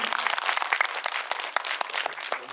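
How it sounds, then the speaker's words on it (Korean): A cinema audience at a Korean film Q&A claps in a dense, steady round of applause, close and lively throughout with no voices over it. "저희 박수를 한번 여기서 드려야 될 것 같아요."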